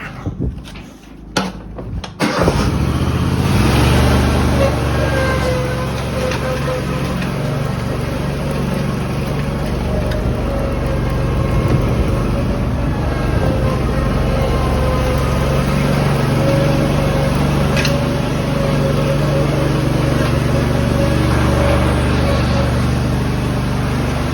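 A restored Walker mower starts after a few brief clunks, then its engine runs steadily with the blades engaged, a loud close mechanical drone that holds for the rest of the clip, with no speech.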